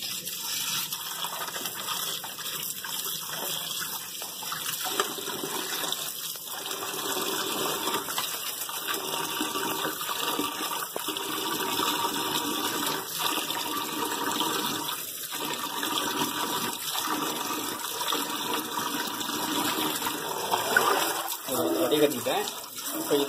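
Water runs and gushes steadily while rice for mutton biryani is rinsed and drained through a strainer, a continuous splashing flow with occasional clatter, with a person speaking over it.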